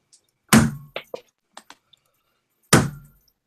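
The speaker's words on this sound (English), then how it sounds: "That's really stupid of me to hit the table." A hand slams down on a table at a tabletop role-playing session, making a loud, sharp thud, followed by a few small knocks and taps, then a second heavy thud.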